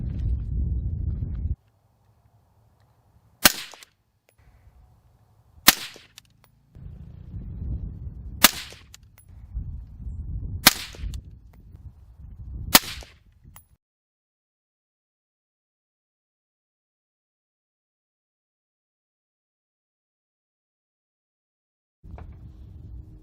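An AR-15 rifle fitted with a Saker 556 suppressor fires five sharp, muffled reports a couple of seconds apart outdoors, with a low rumble between the shots and quiet after them.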